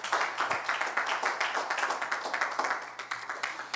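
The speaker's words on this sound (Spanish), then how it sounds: "Denle el fuerte aplauso a Cristo Jesús." A church congregation claps during an online service, a steady rhythmic burst of many hands applauding together for nearly four seconds, moderately loud and close.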